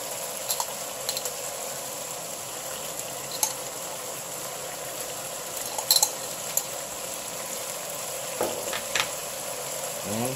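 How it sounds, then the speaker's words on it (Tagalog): Onion and garlic sautéing in a pan for a Filipino bamboo shoot dish: a constant soft sizzle with scattered clicks and scrapes of stirring, close and moderately loud. "pwede na po natin ilagay yung sibuyas at saka yung bawang"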